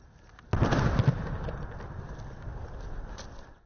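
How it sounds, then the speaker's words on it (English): A single deep artillery boom west of Donetsk, followed by a long rolling rumble that fades slowly. "As you can hear from the sounds of artillery, the battles here just west of Donetsk still rage"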